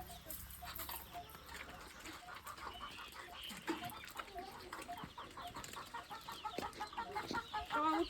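Chickens clucking nearby with a rooster among them, scattered calls growing busier toward the end over faint background noise.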